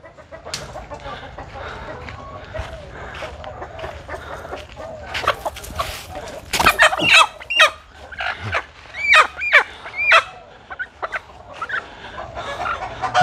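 Chickens being driven into the coop, clucking and squawking in agitated bursts that grow louder and busier toward the end, with rustling and thumps nearby.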